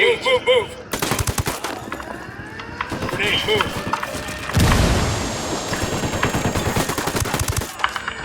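Bursts of automatic gunfire and single shots in the open-world shooter Ghost Recon Wildlands, with sharp repeated cracks, a heavy blast midway and rattling fire continuing under game voices.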